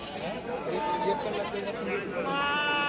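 Goats bleat repeatedly amid a busy crowd at a Saturday livestock market in Shirur, Pune district, with people chattering close by and overlapping the animal calls.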